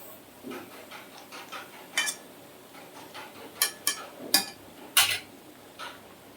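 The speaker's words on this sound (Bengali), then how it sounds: "আমি চিকেনটা একটু নেড়ে ছেড়ে দিই" Chicken with fried onions is stirred in a pot, heard as scattered sharp metal clinks and scrapes of a utensil, several close knocks in quick succession over a quiet background.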